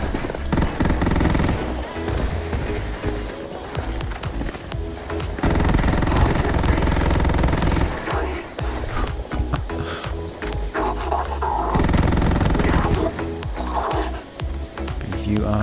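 The Buzzcut gun in Starfield fires in long rapid bursts, a dense stuttering rattle repeated in several sustained volleys across the stretch, loud and close.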